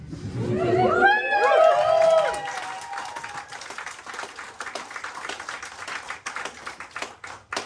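Applause from an audience at Soho Theatre, loud at first and then settling into steady scattered clapping.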